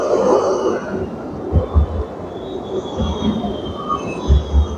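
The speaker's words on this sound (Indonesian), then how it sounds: "Ini yang di belakang adalah suara kereta listrik" An electric train in Bern rumbles past nearby with a steady roar, rhythmic thumps of wheels over rail joints and faint high metallic squeals riding above.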